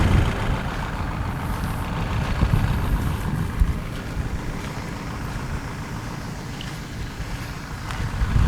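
A DTZ 504 50-horsepower tractor engine drones steadily with a low, rumbling churn from a rotary tiller working soil, fairly loud and continuous, with no talking.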